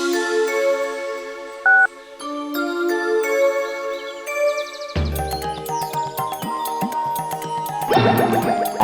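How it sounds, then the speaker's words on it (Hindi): A mobile phone rings with an electronic ringtone melody of bright, chiming synthetic notes that shift into a busier, jingling pattern partway through, playing continuously and fairly loud with no talking. "अरे मेरा मोबाइल यहाँ कैसे बज रहा है?"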